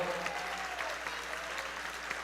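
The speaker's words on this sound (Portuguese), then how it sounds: "Aplauda ao Senhor, por favor." A church congregation applauds at an anniversary service as a visiting pastor from Rio de Janeiro is introduced: steady, dense clapping from many hands, fairly soft and distant, continuing throughout without pause.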